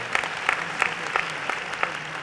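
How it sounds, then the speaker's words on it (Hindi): Sparse, rhythmic hand claps from a modest audience at a kavi sammelan poetry gathering, a few distinct claps repeating at a steady pace, moderately near. "एक बार सचमुच में भी तालियां बजा दीजिएगा"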